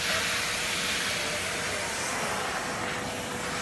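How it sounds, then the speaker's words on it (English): A professional steam vacuum cleaner works a floor, giving off a steady, loud broadband hiss of steam and suction that holds evenly throughout with no voices. "here you have the hot steam to clean the surface and the vacuum to make it finish and dry"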